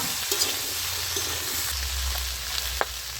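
Potato and eggplant pieces fry in hot oil with fish oil, a steady close sizzle with a few light clinks of stirring.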